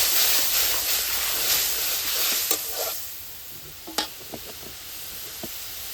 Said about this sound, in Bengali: মশলাগুলিকে আমি ভালো করে কষিয়ে নেব